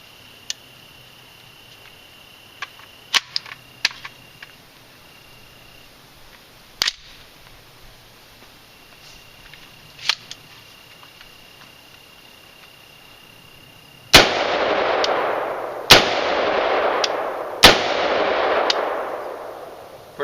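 A real assault rifle fires three sharp, loud shots close by, each followed by a booming echo, after a quiet stretch of faint clicks and handling noises with insects chirping in the background.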